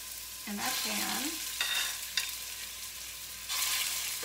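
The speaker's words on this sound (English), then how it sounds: "we're gonna take our lovely meatballs and plop them, sizzle, straight down in that pan" Meatballs dropped into a hot pan for a roasted carrot and cauliflower meal, giving a steady broadband sizzle with a few louder bursts as pieces land, close and clear with no talking.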